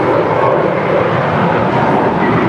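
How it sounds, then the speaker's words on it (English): A six-year-old American Airlines Airbus A321 jet departing LAX produces a loud, steady broadband engine roar with no breaks, heard close and with no talking. "This is American Airlines Flight 1116 departing to Nashville. It's a 6-year-old Airbus A321."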